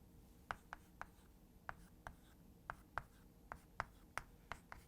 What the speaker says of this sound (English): So, here we can write